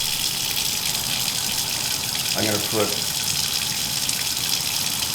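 Water pouring steadily into a cooking pot while making moong bean soup, a continuous gushing splash throughout, with a person speaking briefly over it.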